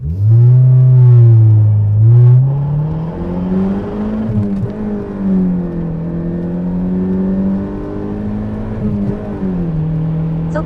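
A 1985 Toyota MR2 accelerates hard through its gears on a timed run, the engine note climbing steadily and loudly from inside the car, with brief dips at each shift and no talking.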